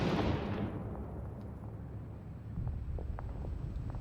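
A heavy mortar blast from the video game Six Days in Fallujah booms loud and close, then its rumble fades. Low wind-like noise and a few faint distant pops follow.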